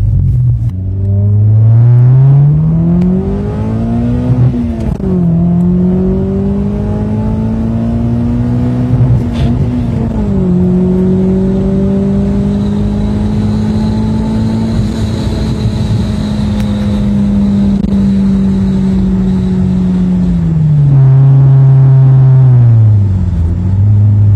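A car fitted with a homemade AliExpress exhaust silencer and a turbo setup revs loudly and alone, its engine note rising and falling in several long, droning pulls.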